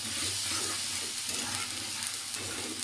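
Prawn curry spices with green chili frying in a pan, a steady dense sizzle running throughout with faint intermittent stirring and no talk.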